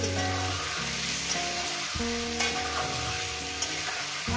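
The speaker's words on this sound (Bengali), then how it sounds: "হাইটে করে দিয়ে এবার আমি মাংসটাকে ভেজে নেব।" Thinly sliced meat fries in hot oil in a pan for a light curry, giving a steady, loud sizzle throughout with occasional crackles and pops.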